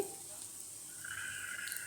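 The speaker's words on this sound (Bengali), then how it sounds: "ম্যাগির জন্য এখানে তো আলু ভাজা বসিয়ে দিয়েছি" Potatoes fry quietly in a pan, giving a faint, steady sizzling hiss with no other sound.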